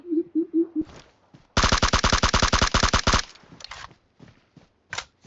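Rapid automatic gunfire from the video game PUBG Mobile, a loud sustained burst of about a dozen evenly spaced shots, followed by a few scattered quieter shots.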